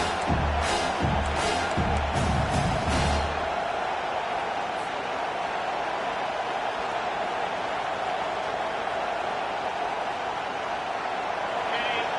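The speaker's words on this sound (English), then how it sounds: "Decibels rising as the crowd gets behind this defense on 3rd down" A large stadium crowd at a Texas college football game roars for the defense on third down, a broad sustained wall of cheering that swells at the start while an announcer talks over it.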